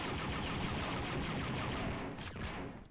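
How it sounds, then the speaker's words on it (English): Turrets firing in the Star Wars: Dark Forces video game, a dense, continuous barrage of blaster-style gunfire that stays loud and steady with no speech over it. "And I think on medium, there's turrets!"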